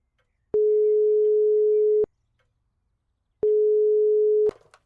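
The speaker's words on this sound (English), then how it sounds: "There wasn't anything else to do but phone de Vilta and motivate him to return home" In the video game The Hand of Glory, a telephone line gives two long, steady electronic tones, each lasting about a second and a half and separated by silence, clean and loud, ending in a brief click.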